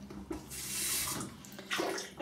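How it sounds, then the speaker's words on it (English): Water runs from a tap in two short bursts, close and moderately loud, with a brief pause between them as a glass is filled for drinking. "Let me just get some water."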